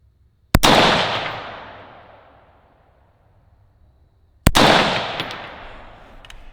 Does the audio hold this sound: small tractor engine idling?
no